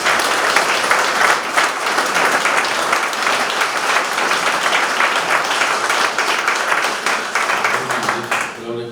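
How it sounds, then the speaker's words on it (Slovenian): Sustained crowd applause fills a church blessing ceremony for a renovated mortuary chapel and cemetery, dense steady clapping that holds throughout and thins near the end. "Mislim, da lahko damo aplavz tudi sedaj."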